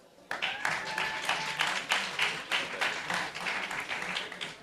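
A conference audience at a climate summit gives sustained applause, a dense, even clatter of many hands clapping, to welcome Dr. Sacoby Wilson. Some cheering voices mix into the clapping.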